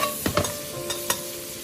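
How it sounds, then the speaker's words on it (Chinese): Dried tofu is stir-fried with salt, chicken bouillon and oyster sauce in a wok, a brief sizzle cut by a few quick spatula scrapes and clacks, close and without talk. "再快速的翻炒均匀，将调料化开，把香干豆腐炒至入味"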